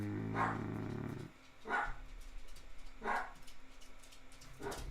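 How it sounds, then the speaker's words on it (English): Several house dogs bark at someone near the front door, letting out four loud, sharp bursts spaced a second or so apart, close by, with a low hum under the first bark. "Sorry, my dogs are going crazy."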